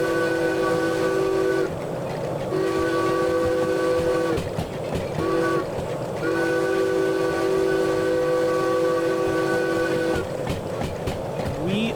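A steam train in the Derail Valley game rolls downhill hauling an overweight load, its loud, continuous rumble and rail clatter broken by long sustained whistle blasts that cut in and out.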